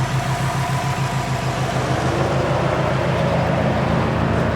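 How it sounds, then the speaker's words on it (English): Cooling fans on a Porsche Cayman S run with a steady, even whoosh over the car's low idling hum, constant and close throughout with no talk. "Now the fans kicked in."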